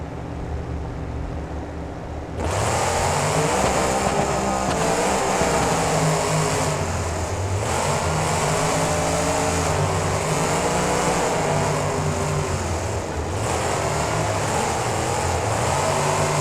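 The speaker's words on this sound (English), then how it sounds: "Both of these trucks being very fast in the turns here." Monster truck engines roar in a BeamNG stadium race at NRG Stadium, a loud sustained drone that swells suddenly after a quiet start and holds with wavering revs throughout.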